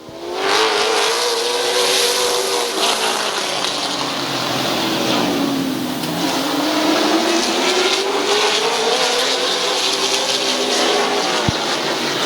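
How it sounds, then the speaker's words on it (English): Late model race cars roar loudly together at a speedway as the field takes the green flag off turn four, engines rising and falling in a continuous, dense rumble of revving motors with no talk over it. "Getting ready to go green off turn number 4. Good to see Chief starter Terry Coletti back on the flag stand. And we're green."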